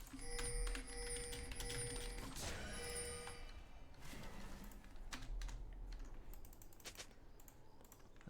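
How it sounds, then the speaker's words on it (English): Keyboard typing clatters in quick bursts over a steady League of Legends game soundtrack with tones and effects, fairly close and moderately loud. "And I can even type."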